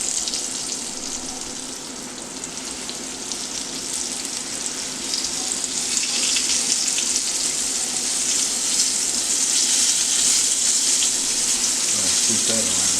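Beef liver frying in a pan, a steady broadband sizzle and crackle that holds throughout and grows slightly louder in the second half, with faint kitchen clatter near the end.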